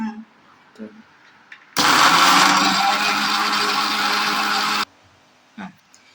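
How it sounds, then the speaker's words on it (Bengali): A kitchen mixer blender grinds tomato and chili into paste in one loud, steady whir of about three seconds, with someone speaking briefly before and after. "এবার মা ব্লেন্ড করে নেবে"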